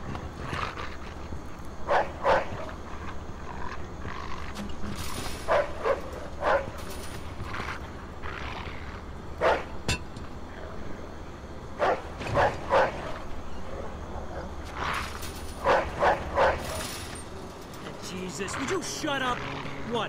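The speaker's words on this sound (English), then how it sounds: "That's the dog." A dog in the video game Mafia 2 barks repeatedly in bursts of sharp yaps and woofs, fairly close, over a low ambient game rumble, with voices talking at points between the barks.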